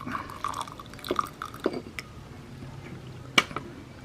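Boiled guava leaf water, pale yellow, poured from a pot: faint liquid trickles and drips with a few small clinks of a vessel. One sharper splash or knock near the end, and no voices.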